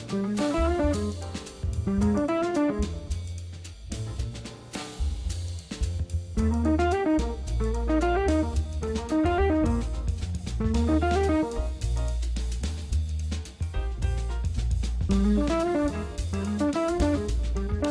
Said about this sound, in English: Here's an example of 7 consecutive 16th notes using a simple sequence.